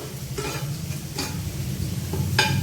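Egg masala fry cooking in a pan, with a steady low sizzle and a few short scraping stirs of a spoon against the pan, close and moderately quiet, no talking.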